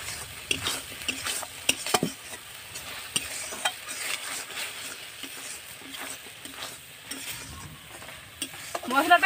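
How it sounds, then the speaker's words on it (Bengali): Spices for a bitter gourd (kakrol) curry being stir-fried in a pan: a steady sizzle broken by repeated scraping and clinking of a spatula against the metal, with no voices. "এগুলোকে ভালো করে কষবো।"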